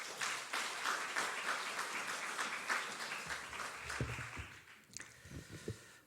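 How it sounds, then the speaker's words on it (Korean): Church audience applauding to welcome a visiting pastor during a monthly prayer service, a faint, steady patter of many hands that thins out toward the end, with a few scattered claps. "오실 때 큰 박수로 환영해 주시면 감사하겠습니다"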